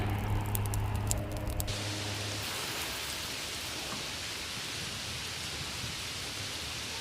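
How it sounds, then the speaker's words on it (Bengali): Heavy rain pours down outdoors under thick cloud in a village, a dense, even roar close by that holds steady throughout. A low hum and some clattering come at the start. "প্রচণ্ড বৃষ্টি নেমে এলো"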